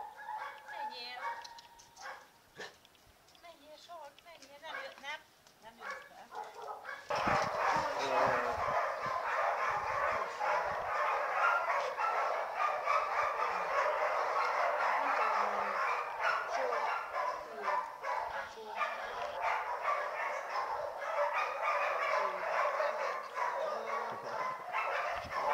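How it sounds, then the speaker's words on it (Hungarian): A dog in an animal shelter barks and yips repeatedly, loud and near, in a dense run of barking with quieter whimpers and voices before it starts. "ha kint van a oldalon, akkor még így ugat"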